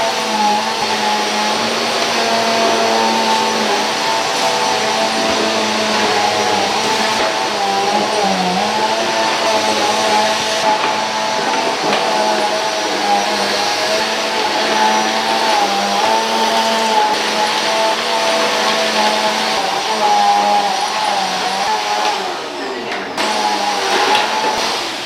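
A vacuum cleaner runs steadily over a bare floor, a loud continuous whine and motor hum that holds for the whole stretch with only slight shifts in pitch.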